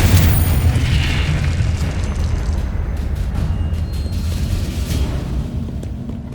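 A Confringo fire spell blasts in the Hogwarts Legacy video game, opening with a loud booming burst that rolls into a dense, roaring rumble and slowly fades without dying out.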